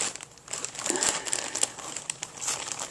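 Plastic packaging around an autographed Luke Cage wrestling action figure crinkles and crackles steadily while being cut open with scissors, close up and fairly loud, with brief sharper snips and no talking.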